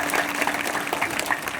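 An audience at a Hari kirtan gathering breaks into sustained, dense applause: many hands clapping together at an even, close, steady level, with no voice over it.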